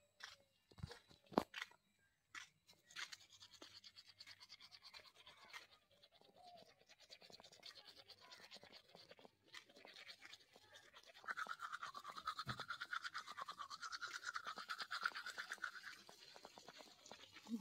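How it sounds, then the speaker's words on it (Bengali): Toothbrush scrubbing teeth at home in the morning, a steady run of close, wet bristle scratching and scraping that grows louder and busier toward the end, with faint background noise and no voices. "এবার চলো ব্রাশ করতে করতে কথা বলা যাক তোমার সাথে।"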